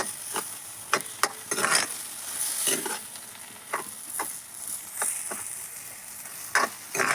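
Vegetables and an egg fry in a pan over a fire, a steady sizzle broken by repeated scraping strokes of a spoon stirring, close and clear.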